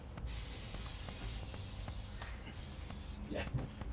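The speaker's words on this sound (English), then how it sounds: "It's still spraying, but that tip's clogged." A spray gun with a clogged tip hisses steadily while spraying an oversized lounge chair during reupholstery, a close, continuous spray with small sputters and shifts near the end.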